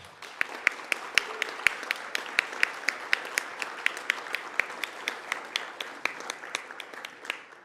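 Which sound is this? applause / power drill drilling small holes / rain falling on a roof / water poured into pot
applause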